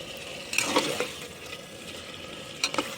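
Mutton being bhuna stir-fried with spices in a pan: a steady close sizzle with a few scraping, clattering stirs near the start and again near the end.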